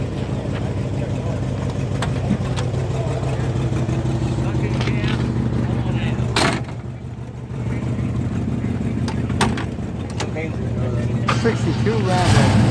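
A 1962 Rambler Classic with a 409 engine runs at a steady, deep burbling idle close by, with a few sharp clicks and bumps and voices talking over the engine.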